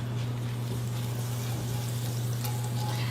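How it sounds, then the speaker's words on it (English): Butter sizzles in a preheated skillet, a faint, steady frying hiss that runs unbroken throughout, with a low electrical hum beneath it and no one talking. "we're going to butter our preheated skillet"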